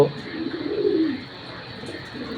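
A single female racing pigeon gives a soft, low coo, close by, against a quiet background hum.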